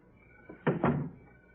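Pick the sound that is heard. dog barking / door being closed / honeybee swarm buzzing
door being closed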